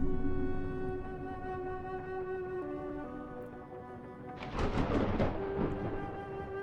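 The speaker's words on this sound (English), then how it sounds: "there's the thunderclap that killed Rupert" A thunderclap in the video game The Incident at Galley House, a sudden rumbling crack that swells and rolls for about a second over a steady, sustained musical drone, with no one speaking.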